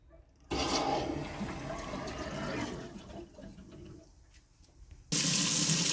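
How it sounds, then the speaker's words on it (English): Kitchen faucet running after a water heater refill, with a steady stream starting abruptly, continuing for several seconds, fading slightly, then surging louder and brighter near the end, close and alone. "And we have now water going in nice stream in the kitchen and the faucet."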